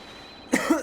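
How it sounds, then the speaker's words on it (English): Two or three harsh coughs burst out close by after half a second of quiet room tone, a short, rough fit from one person. "I'm coughing for real now."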